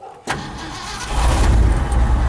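An old pickup truck's engine cranks briefly and catches quickly, then settles into a loud, close, rumbling idle with no talk over it.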